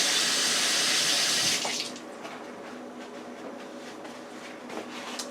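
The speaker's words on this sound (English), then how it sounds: "now we're going to pour the vinegar over it so that it goes down in the scored area of the roast" Vinegar pours from a container over a scored pork roast as a loud, steady splashing rush that stops after about two seconds, leaving quiet kitchen sounds.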